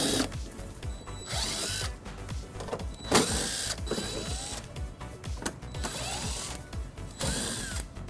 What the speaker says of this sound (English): we're going to remove 6 bolts using an 8mm socket